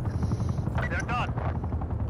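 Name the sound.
attack helicopter in video game Call of Duty: Black Ops Cold War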